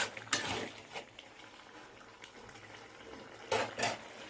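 A purple cucumber and potato curry simmers in a pot with faint, continuous bubbling. A few brief clinks and stirring scrapes rise out of the quiet boil.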